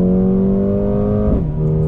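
A 2020 Mercedes-AMG CLA 35 sedan in automatic mode under throttle, its engine droning loud and close with a steady rising tone that drops as it shifts gear.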